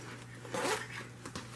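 A zipper on a quilted bag's pocket slides open in one quick close-up pull, a short rasping sweep with a second brief tug near the end.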